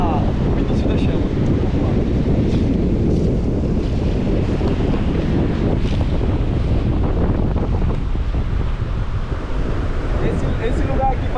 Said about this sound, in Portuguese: porque tem muito vento e vai apagar rapidinho o início da chama